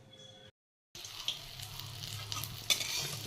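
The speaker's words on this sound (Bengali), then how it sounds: "এখন পটল ভাজা বসিয়ে দিয়েছি ভাজা হচ্ছে" Pointed gourd (potol) frying in a home kitchen pan, a steady close sizzle with faint stirring scrapes, briefly cut to silence at the start before the frying noise resumes.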